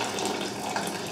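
Hot water pouring steadily into a second pot for cooking pasta, a continuous, dense rushing splash with no pause or talk.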